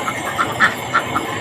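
Ducks quack in a short, uneven series of five calls on a farm while fresh duck eggs are being gathered, heard fairly close with no talking.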